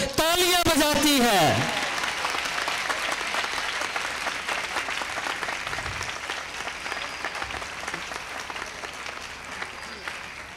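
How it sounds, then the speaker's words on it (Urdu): A church congregation at a Catholic coronation ceremony for Mother Mary claps loudly and steadily, a continuous wash of applause that fades slightly over time, while a voice speaks over an amplified sound system at the start. "ماڈل کلونی کی کلیسیا زوردار تالیاں بجاتی ہے۔"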